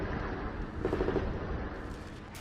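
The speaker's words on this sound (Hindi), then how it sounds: "दोनों तरफ से विध्वंसक गोलाबारी की आवाजें सुनाई दे रही हैं।" Shelling and gunfire in fighting in Gaza form a dense, continuous rumble of distant booms and crackling bursts, loud and unbroken throughout.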